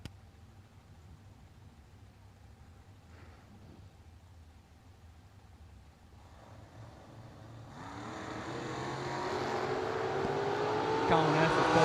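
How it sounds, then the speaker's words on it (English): Drag racing cars, one a 1968 Chevrolet Camaro, thunder down a drag strip, engines building from a distant rumble to a loud roaring pass in the last few seconds. "Dale Deering over here in the 68 Camaro on the right-hand side of the track"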